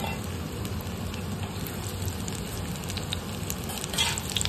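Corn pakoda (bhaji) batter sizzles steadily in hot oil, a dense crackling fry heard close up and continuously, with a few brighter pops near the end.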